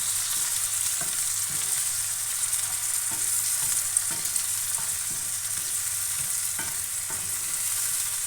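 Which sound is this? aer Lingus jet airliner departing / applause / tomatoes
tomatoes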